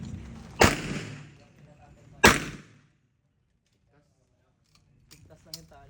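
Two sharp, loud gunshots about a second and a half apart, each ringing out with a short decay, fired at a Filipino amulet test, followed by a quiet stretch and faint voices near the end.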